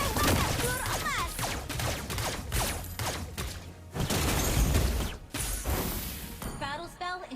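Layla, a hero in Mobile Legends, fires golden bullets in a dense, loud barrage of rapid gunshots and impacts, with whooshing bursts and brief pauses, while a voice speaks over the action.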